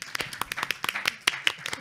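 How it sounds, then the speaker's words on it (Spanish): An audience claps for panel participants at a discussion on Indigenous peoples' publishing, a dense burst of hand claps lasting under two seconds at moderate level. "para quienes pido un tremendo aplauso"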